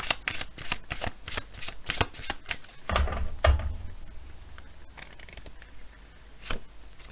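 Oracle cards are shuffled and drawn by hand: a rapid series of crisp card riffles and flicks up close, followed by softer handling and a single snap as a card is pulled out, with no talk.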